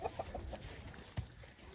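Farm chickens or ducks clucking softly in short, scattered calls over a faint outdoor background, fairly quiet and a little distant, with no voices.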